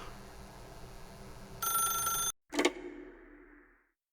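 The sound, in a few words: telephone ringing in a video game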